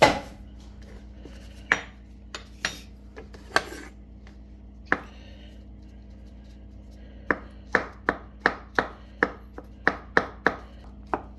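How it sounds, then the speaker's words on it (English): Mushrooms are chopped with a knife on a cutting board, crisp knife taps close up, first scattered and uneven, then after a pause a quick steady run of about a dozen chops. "I'll take some out to wash off and chop like I did with the onion."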